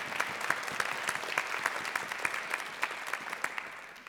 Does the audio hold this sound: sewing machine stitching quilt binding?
no